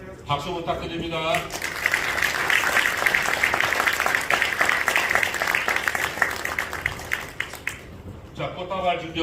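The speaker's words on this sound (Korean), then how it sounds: "박수 부탁드립니다." At a Korean Christian council gathering announcing an elected president, a hall audience breaks into sustained, fairly loud applause for several seconds, with someone speaking briefly just before and just after it.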